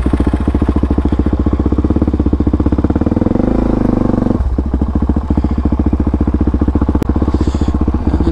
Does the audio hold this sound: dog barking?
no